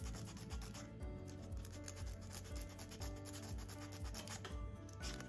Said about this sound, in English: Just a little bit of sanding.